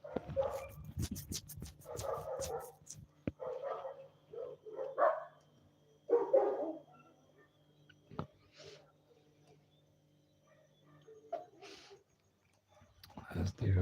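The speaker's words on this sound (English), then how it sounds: "as they're barking and coming back up the road" Two dogs bark on a road, their yips and barks coming in bursts at moderate distance, interspersed with quiet gaps and a faint background hum.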